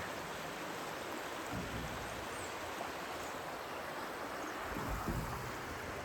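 A river flows steadily in the open on a morning along a long-distance hiking trail, a constant broadband rush of moving water with no talk over it.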